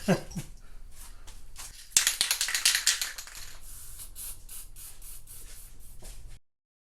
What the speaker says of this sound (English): I'm just going to spray a little bit in the cap here